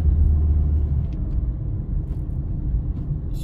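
A manual-gearbox car, driven by a 15-year-old learner during a driving lesson, accelerates in third gear with a steady low engine rumble and drone from inside the cabin, fairly loud and continuous, no talking.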